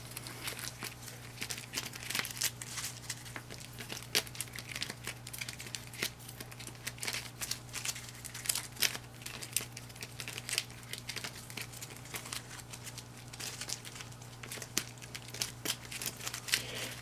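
A deck of cards from the Web of Spies board game being shuffled, a steady run of soft, quick flicking and ticking that lasts throughout, fairly quiet and close, with no talk.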